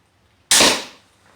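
A PSE Viper SS handheld crossbow looses a bolt in one sharp, loud snap that decays quickly, with near silence before and after.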